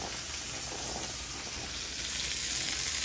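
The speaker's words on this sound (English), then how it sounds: "I want the pan sizzling, y'all." Olive oil crackles in a very hot pan at the start of a tomato sauce, a dense steady sizzle heard close up that grows slightly louder toward the end, with no talk over it.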